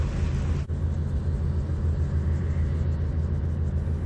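Low steady rumble of an unloading truck at a railway wagon loading site, continuous and moderately near, with one sharp click early on and a thin high whine overhead.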